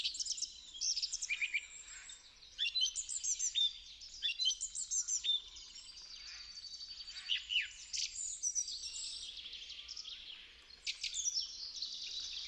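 Birds chirp and call near a nest in a swamp forest, high rapid twittering bursts coming in irregular clusters, fairly close over a quiet low background hum.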